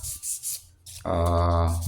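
Sanding of epoxy filler on a custom steel ARB bumper for a Toyota Kijang Innova Reborn: a few rhythmic rasping strokes, then a steady, louder abrasive whir with a strong hum, like a powered sander running continuously.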